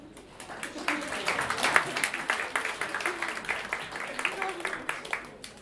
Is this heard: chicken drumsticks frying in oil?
no